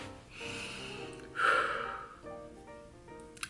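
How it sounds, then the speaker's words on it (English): One deep breath, a slow inhale swelling to a sharp, airy peak and easing off into a long exhale, close to the mic with no words. "Let me take a deep breath."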